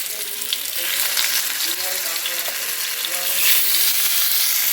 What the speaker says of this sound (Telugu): చూడండి మంచిగా ఫ్రై అవుతున్నాయి.